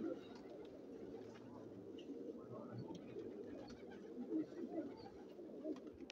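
Fancy black gandedar pigeons kept by a hobbyist coo softly and repeatedly from close by, in low rolling calls against faint background noise and some distant talk.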